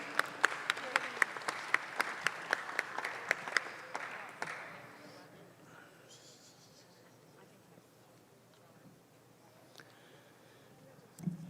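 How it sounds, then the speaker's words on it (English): Spectators at a 4-H and FFA youth dairy cattle show at the Kentucky State Fair clap for young exhibitors; a few sharp, spaced claps near the microphone, then sparse fading applause in a large hall with a voice and quiet murmur. "Let's give them again another big round of applause."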